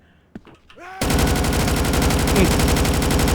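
Rapid automatic gunfire in a Roblox desert driving game, sustained and loud after a brief quiet start with a few short clicks, bursts running densely without pause over a steady game soundscape.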